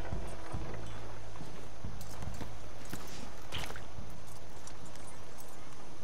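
A horse in the video game Red Dead Redemption 2 clip-clops with uneven, slowing hoof strikes over a low background hum, fairly near, with brief faint bits of other sound.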